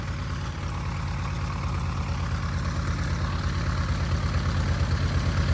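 A 1948 Cessna 170 with a Continental engine idles on the ground after its first start following a long layoff, giving a steady, loud, rhythmic low throb throughout, with no talk over it.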